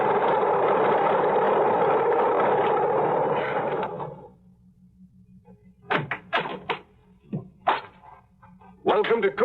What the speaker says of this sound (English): I got to the airport just as the plane taxied up the strip. Single-engine job,